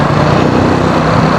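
A Triumph Scrambler 400X motorcycle cruises at highway speed, its engine droning loud and steady with a constant buzzing hum mixed with wind rush, no break in the sound.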